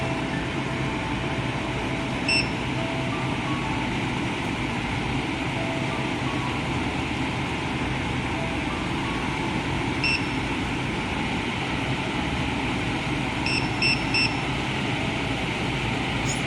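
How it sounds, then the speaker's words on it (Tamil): Air conditioner indoor fan running on auto mode after a universal DC PCB board installation, a steady broadband whir with occasional faint electronic beeps, no talking. "ஃபேன் ஸ்பீட் எல்லாம் மாற்றி ஓட்டோவாக வேலை செய்யுது."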